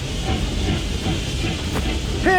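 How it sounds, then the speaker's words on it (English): Train passing in the video game Octopath Traveler II, a loud, steady rumbling hiss with rail clatter that holds throughout, with a faint voice at the very end. "A train."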